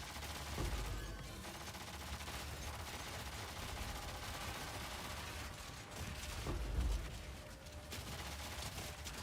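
A minigun-style weapon in a video game fires rapidly and without a break, a dense continuous rattle running throughout, with a couple of heavier low thumps partway through.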